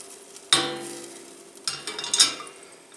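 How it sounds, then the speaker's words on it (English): Butter swirled in a pan as it melts for Rice Krispies treats, giving a couple of soft scraping clinks and a faint sizzle, close and quiet with no talk. "Just going to swirl this around, let it melt."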